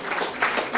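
An audience at a hospital function claps in a hall, a dense burst of applause rising in waves over under a second.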